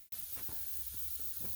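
PB Blaster penetrating oil sprayed from an aerosol can onto bolts on a 2006 Ford F-350 front end, a steady close hiss running without a break under faint bumps.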